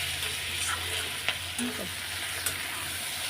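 Fish oil and fish fat frying in a pan give a quiet, steady sizzle with a few sharp isolated pops and crackles over a low background hum.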